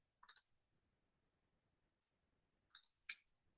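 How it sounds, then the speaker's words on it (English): Computer keyboard keys pressed, Shift and B, while working in TouchDesigner: a few sharp, close, quiet clicks, one alone and then a quick pair after a pause, with silence between them. "So you type Shift and B, you will get networks box."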